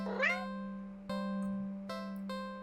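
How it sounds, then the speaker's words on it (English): A squeezed cat plushie doll in a video game gives a short synthetic meow, followed by a few soft musical plinks over a steady low drone. "You give the plushie a little squeeze and cat doll. It actually meows."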